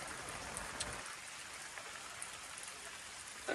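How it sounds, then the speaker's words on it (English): Rain falling steadily outside a remote cabin, a dense continuous hiss of drops on surfaces with a few nearer distinct drips, soft and even throughout with no voices. "No deer, but a whole lot of rain."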